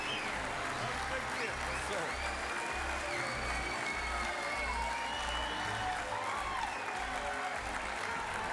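A large fan convention crowd applauds steadily for a former Chicago Cubs hitter, a dense sustained wash of clapping with scattered cheers and a low rumbling hum underneath, at the 2016 Cubs Convention.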